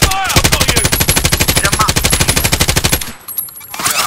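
Light machine gun in Call of Duty: Warzone fires a rapid, steady burst of loud close shots for about three seconds, then stops and leaves quieter game noise.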